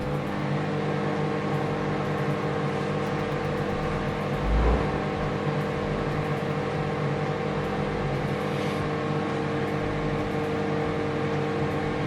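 A Samsung MS23F301TAW solo microwave oven runs with a steady, even hum and drone throughout, with one brief low bump partway through and no talking.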